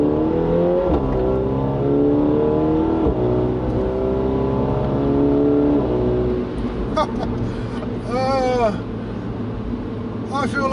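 A 2019 Mini John Cooper Works with a pro tuning kit and loud JCW pro exhaust revs hard through the gears, its engine note rising and dropping with shifts, loud and close from inside the car, while someone talks over it.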